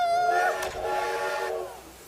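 A steam train whistle sounds loudly, a sustained high tone that bends and fades, with a second whistled note following.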